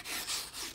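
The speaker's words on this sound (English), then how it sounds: "take the wire brush, rub it along it, it takes off all the excess dirt and grit" Wire brush scrubbing dirt and grit off a garden pot for a water feature, a continuous close rasping scrape with short rhythmic strokes, no talk.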